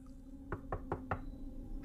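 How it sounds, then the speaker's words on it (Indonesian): Four evenly spaced knocks on a bedroom door, part of a radio drama, sharp and fairly close over a steady low hum, with no voices. "terdengar ketukan lagi di pintu kamar."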